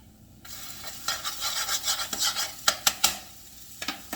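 Garlic sizzles in a hot pot while a utensil stirs it, making continuous frying hiss with scraping strokes and a few sharp clinks of metal against the pan near the end; no talking.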